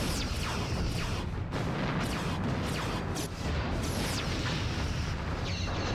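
Quantum torpedoes fire during a Star Trek starship battle game between a Mnemosyne-class ship and its rivals, a dense continuous roar of weapon blasts and rumbling impacts with repeated whooshing shots layered over it.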